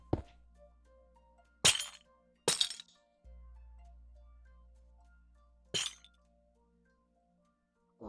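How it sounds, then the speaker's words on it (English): Glass panes being placed in a block-building game, heard as four sharp glassy clinks and shatter-like hits spaced apart over a quiet low hum, with no talking. "You're going to add some glass panes."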